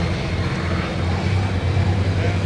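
Tractor pull engine from a 9,500 lb Limited Pro class tractor at a Badger State Tractor Pullers event in Monticello, Iowa, a steady low roaring drone heard from a distance, constant and moderately loud.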